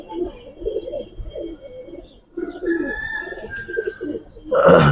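Giribaz and Budapest pigeons coo in a loft, with soft, repeated low throaty calls close by, a few chirps and a brief louder rustle at the end.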